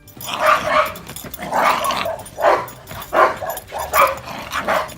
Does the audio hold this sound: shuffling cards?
no